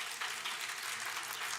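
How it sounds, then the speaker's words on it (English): An audience applauds at a leadership talk. It is a dense, even wash of clapping from many hands in a hall, holding steady and moderately loud the whole time with no voices. "all of you who are applauding"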